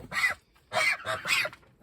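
Honks from a goose named Penny being herded around her house, three loud nasal bursts close by with short gaps between them.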